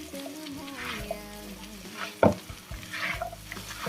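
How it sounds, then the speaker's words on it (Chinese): A spatula stir-fries soybeans in a wok, scraping and tossing them over the pan with a soft sizzle and a sharp clack partway through, close and continuous. "然后用铲子快速的给它翻炒均匀"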